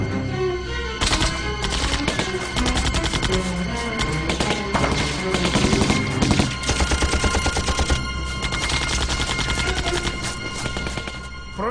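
Sustained machine gun fire with overlapping bursts and rapid repeated shots, dense and loud throughout, evoking an Italian machine gun post under assault in a wartime battle scene.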